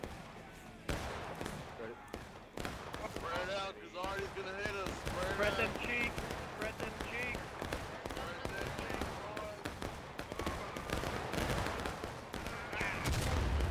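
Artillery shells hit during a large multiplayer Civil War battle game with Union and Confederate forces, heard as scattered booming impacts and crackling fire mixed with steady battle noise, under continuous talking throughout.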